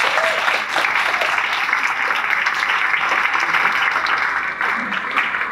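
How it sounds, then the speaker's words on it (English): Sustained applause from a banquet audience at a school sports award dinner, honoring the coaches; steady dense clapping fills the room throughout, with faint voices mixed in. "Give a round of applause for your coaches."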